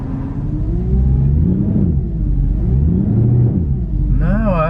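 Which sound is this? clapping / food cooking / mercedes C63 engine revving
mercedes C63 engine revving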